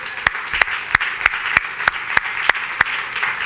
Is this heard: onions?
no